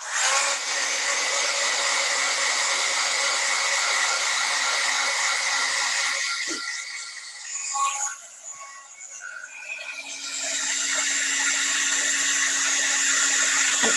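Heat gun blowing to melt embossing powder on a stamped card, a loud steady whooshing whir that cuts out midway for a few seconds of quiet before starting again.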